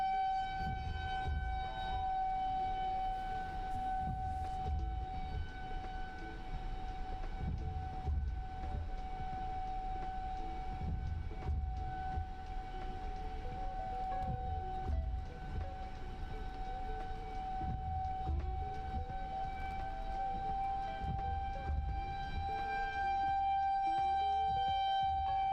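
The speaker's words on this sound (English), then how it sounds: "Still got a tornado siren going off." A tornado siren wails steadily at mid distance during a storm chase in South Dakota or Iowa, its sustained tone rising and falling faintly over a low rumble of wind and engine noise.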